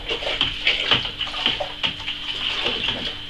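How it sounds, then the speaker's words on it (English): A turbo pure sugar wash being stirred in a 23 liter fermenter, liquid sloshing and swirling in repeated close strokes with a continuous watery wash of sound. "you can stir it all about, just to remove any excess CO2"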